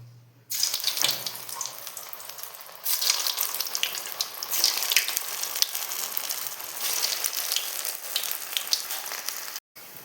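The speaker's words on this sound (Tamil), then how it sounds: "இப்போ தண்ணி எண்ணெயாக நல்லா காஞ்சிருச்சு இப்போது நம்ம இதில் போட்டு பொரிச்சு எடுக்கலாம்" Chili potato snacks deep-fry in hot oil with a steady, close, loud sizzle that starts abruptly, surges again a few seconds later and runs on without talk.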